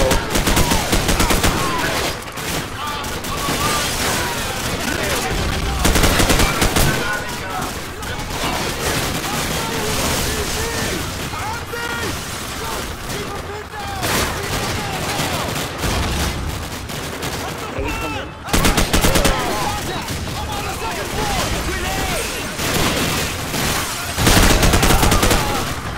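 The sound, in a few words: gunfire in video game Call of Duty 4 Modern Warfare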